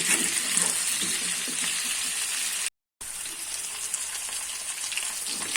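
Potatoes with turmeric fry in a pan, giving off a steady, dense sizzle that carries on throughout, broken by one short moment of silence midway, with no voices.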